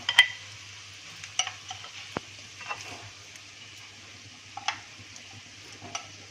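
Appe being lifted out of a cast appe pan, with a quiet steady sizzle of frying underneath, scattered scraping clicks of a spoon or pick against the metal, and a low hum throughout.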